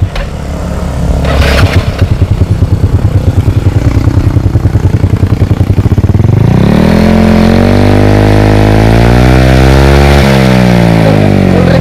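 A motorcycle with an aftermarket exhaust pipe idles with a rapid, loud putter, then revs up sharply, its pitch rising and falling as the throttle is blipped, very close.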